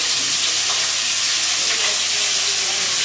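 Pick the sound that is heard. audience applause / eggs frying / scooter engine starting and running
eggs frying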